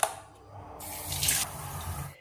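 A tap runs water into a container for drinking, a close, hissing splash that starts after a faint clink and swells steadily for about a second before easing back.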